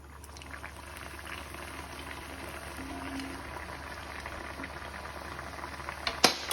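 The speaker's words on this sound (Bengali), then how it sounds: "এখন আমরা ভেজে নিচ্ছি আর ভাজাটা দেখাচ্ছি আপনাকে" Mughlai paratha frying in oil, a steady soft bubbling sizzle that holds evenly throughout, with a brief clatter near the end.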